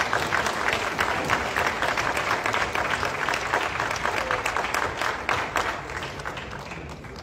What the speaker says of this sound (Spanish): El mayor de los aplausos para María Isabel Sánchez Pimentel.